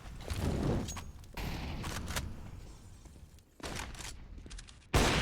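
A Counter-Strike match on the Train map carries sharp rifle reports, including an AWP sniper shot, as several loud cracks punctuate a quieter background, with one abrupt, forceful blast at the end.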